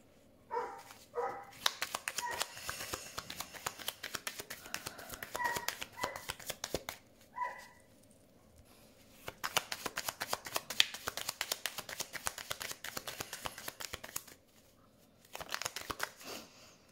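Playing cards are shuffled for a tarot-style card reading, with bursts of quick riffling and flicking near the microphone, pausing briefly between rounds, fairly quiet overall.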